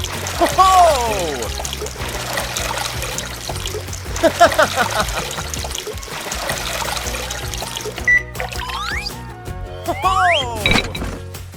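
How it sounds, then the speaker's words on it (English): Water sloshes, trickles and pours as a LEGO three-piston pump driven by a rotating crank transfers it, with irregular splashy bursts and gurgles close by and faint machine hum beneath. "A rotating crank inside the pump moves the piston back and forth, drawing water in and pushing it out."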